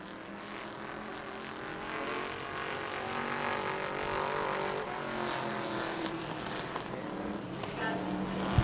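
A big Monte Carlo Super Stock car running a qualifying lap at New Smyrna roars steadily and continuously, its engine noise swelling slightly as the car comes closer.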